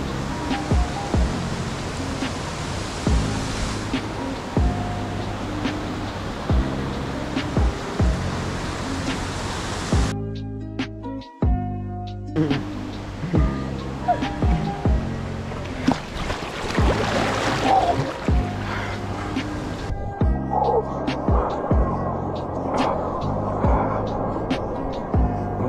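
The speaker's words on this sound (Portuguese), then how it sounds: "Aqui é a Cachoeira da Barreira, em Guapimirim." Waterfall at Cachoeira da Barreira in Guapimirim, a steady broad rush of falling water throughout, with music layered over it and a brief dropout midway.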